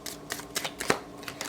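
Tarot cards being shuffled by hand make a run of quick, crisp riffling bursts, close and fairly quiet, with one sharper snap partway through.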